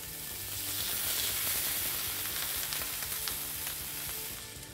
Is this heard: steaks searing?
yes